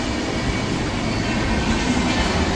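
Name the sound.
another train passing by alongside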